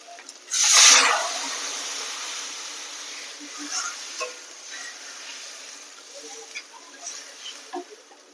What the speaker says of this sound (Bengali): এখানে দেখুন আমি গরম জল করে রেখে দিয়েছি গরম জলটা এবার দিয়ে দেবো